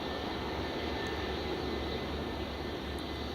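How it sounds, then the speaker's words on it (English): A British Airways jet airliner lines up on the runway at Glasgow Airport, its engines giving a steady, distant roar and whine that holds constant throughout, with no voices. "That's the BA just lining up now."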